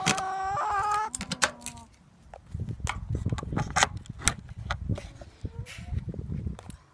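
New backyard chickens cluck and squawk close by, with a loud rising call at the start followed by scattered clucks over rustling and scratching sounds.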